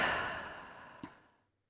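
A slow cleansing breath is exhaled through the mouth during a yoga session, one soft breathy sigh that fades out gradually, close and quiet with a small click partway through.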